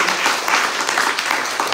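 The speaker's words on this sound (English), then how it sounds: "Can we please have a round of applause for Dr. KARUNA?" Steady, dense applause from a crowd, loud and continuous throughout.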